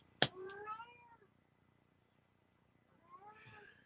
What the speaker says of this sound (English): Guys, can you hear my cat?